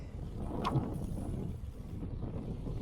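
Steady low wind rumble buffets the microphone throughout, loud and continuous, on a highway in Bijapur District while cycling, with a brief faint whistle near the start.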